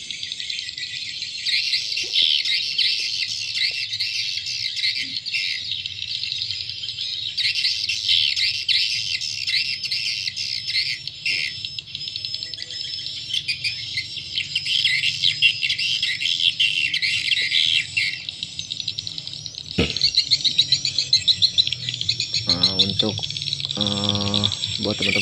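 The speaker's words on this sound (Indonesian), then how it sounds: "ST Rajawali yang di mix dengan suara inap Rajawali yang dijadikan untuk suara" Swiftlet lure call of the ST Rajawali type, mixed with a Rajawali roosting call, plays continuously as loud, dense high-pitched chirping and twittering, with brief rattling bursts near the end.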